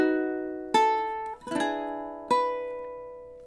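Ukulele playing a measure of a song: three separate strums roughly a second and a half apart, each ringing out and fading, close and clear with no voice.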